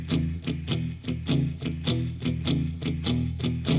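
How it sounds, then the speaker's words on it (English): Distorted electric guitar playing a palm-muted Texas blues shuffle rhythm, root and fifth, in a lopsided long-short swing; loud, close and steady with repeated chunky chord hits and no voice over it. "I'm going to shuffle instead of going straight."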